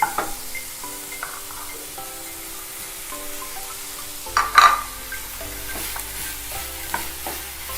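Cabbage stir-frying in a pan, a steady close sizzle with a burst of louder stirring and scraping midway, faint tonal hum beneath, no voices.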